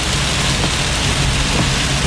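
Heavy rain pours during a Florida thunderstorm, a dense, loud, unbroken hiss of drops with no voices.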